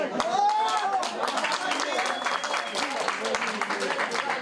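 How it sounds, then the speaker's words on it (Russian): Crowd of football fans at a Crimean championship match cheering and clapping after a goal by the Feodosiya side, a dense, steady roar of applause and shouts with a brief whistle near the start. "На 22-й минуте болельщики феодосийской команды ликуют."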